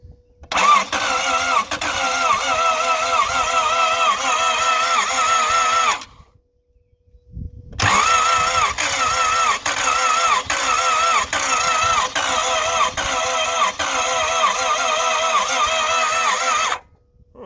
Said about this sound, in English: Can you go full throttle for me and I'll spritz this in?